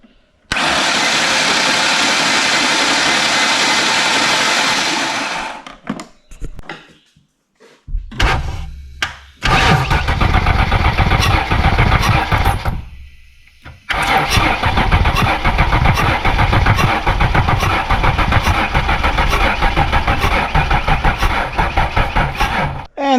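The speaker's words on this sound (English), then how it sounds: "crank it without the plugs in it" A Gen 2 Ford Explorer engine cranks loudly without catching, spark plugs removed, several long whirring bursts of the starter separated by brief pauses, close up.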